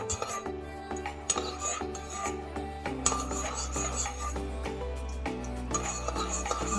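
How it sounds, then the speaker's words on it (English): A spoon clinks and scrapes against a bowl while white vinegar is stirred in for a red velvet cake, light repeated taps over quiet background music. "You give it a mix."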